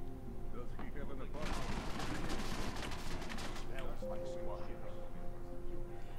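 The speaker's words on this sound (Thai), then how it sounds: "ไอ้เพื่อนก็ยิงเล่นกันใหญ่เลยเนี่ย" A companion fires weapons in Deus Ex: Mankind Divided, a cluster of rapid gunshots in the middle of the clip over steady background ambience, with someone talking at times.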